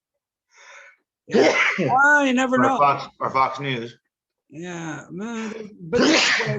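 Two sharp sneezes burst out, one early and one near the end, amid lively close conversation between people on a Zoom call.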